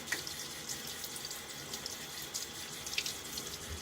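A water tap runs into a sink for rinsing a face after a shave, a steady, fairly quiet splashing stream with small gurgles and spatters throughout.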